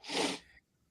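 A single short sneeze, close and fairly loud, bursting out and fading within about half a second, followed by quiet.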